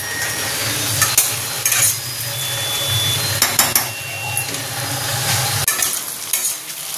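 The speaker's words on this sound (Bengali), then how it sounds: "দেখো আলু পেঁয়াজটা লাল লাল করে ভাজা হয়ে গেছে" Potatoes and onions fry together in a pan in a home kitchen, with a loud steady sizzle broken by repeated scraping and knocking as a spatula stirs them, and no one speaks.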